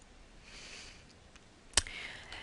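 A single sharp computer mouse click sounds close and clear amid faint quiet room noise.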